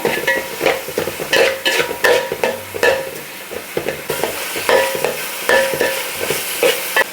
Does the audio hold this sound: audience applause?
no